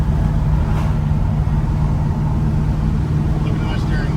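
A Dodge Charger drives along an open road, its steady engine and tire rumble a constant loud drone from inside the cabin with no clear revving.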